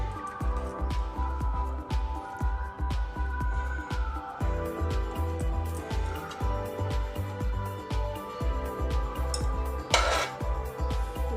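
Homemade fried rice being served onto a plate, with repeated close clinks and scrapes of a spoon against pots and dishes in a steady, busy rhythm, plus one brighter clatter near the end.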